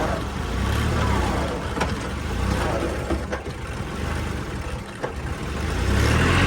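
A John Deere 5310 tractor engine running at full revs, a loud, steady, close diesel drone that holds throughout and swells slightly toward the end.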